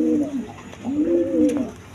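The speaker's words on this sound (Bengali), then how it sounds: "এখানে এক পেয়ার গররা কবুতরের বেবি, কোয়ালিটি সম্পন্ন, দেখেন কলসি গলা" A pair of young Gorra pigeons with pitcher-shaped necks coo close by, giving two low, rolling coo phrases over a faint background hiss.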